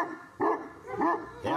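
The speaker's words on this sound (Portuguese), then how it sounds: "Esse cachorro tem um ano e meio." A year-and-a-half-old Fila dog barks three times in short, loud, evenly spaced woofs, close by.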